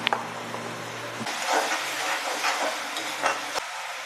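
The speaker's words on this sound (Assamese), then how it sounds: "বিলাহীখিনি গলি যোৱালৈকে ভাজিব লাগিব।" Tomatoes fry in a pan with turmeric for a fish curry, giving a steady sizzling hiss broken by a few soft stirring scrapes after a short burst of music at the start.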